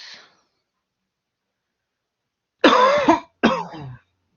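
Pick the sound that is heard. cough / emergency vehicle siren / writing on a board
cough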